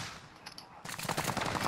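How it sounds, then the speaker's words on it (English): Rapid automatic gunfire crackles in Call of Duty: Modern Warfare, starting after a quiet moment and then rattling on in a dense, fairly distant burst of shots. "Where are shots coming from?"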